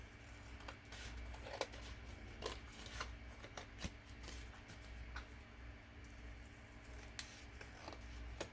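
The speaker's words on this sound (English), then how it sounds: "I think I'll use my scissors this time." Scissors snip through paper at a desk in a quiet room, making a steady run of short, crisp cuts close by.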